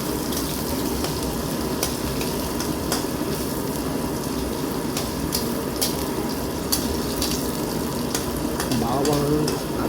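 Chopped ginger sizzles and crackles in hot oil in a pan, a loud steady frying hiss with scraping stirring sounds, ending with a short bit of talk.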